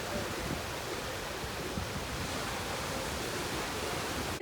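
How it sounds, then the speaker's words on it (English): Ocean waves crash against rocks at a Camps Bay beach, heard as a continuous, loud broadband roar of surf with no pauses and no voices. "the sounds of the ocean and the waves is kind of like clashing on those rocks."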